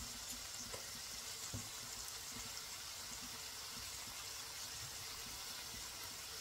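Shrimp frying in a pan for grits and shrimp, a soft, steady broadband sizzle running throughout with a few faint clicks and knocks of utensils, no talk.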